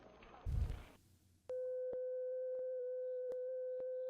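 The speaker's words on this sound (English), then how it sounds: "When you get a signal on the Bell Boy" Bell Boy pocket pager signal tone: a steady, loud electronic beep that holds continuously for several seconds after brief muffled noise, with faint periodic clicks through it.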